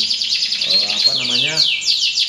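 A canary sings a rapid, continuous song of bright trills and chirps, close and loud, with warbling phrases running throughout.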